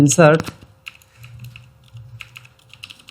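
A short spoken phrase gives way to a few crisp computer keyboard key presses for an Excel shortcut, light clicks scattered over a couple of seconds against a quiet, faint hum.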